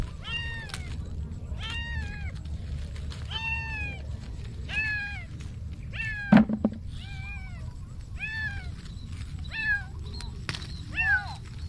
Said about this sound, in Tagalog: Papaampon si Muning. Kawawang Muning itinapon.